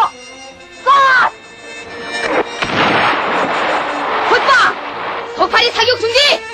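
Cannon fire in a North Korean animated film, a sharp burst followed by a long rumbling blast and scattered crackles, with shouted voices before and after.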